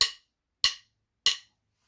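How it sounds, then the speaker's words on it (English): Drumsticks click together three times in a steady, evenly spaced rhythm, sharp and dry with no talking. "it's just clicking your sticks."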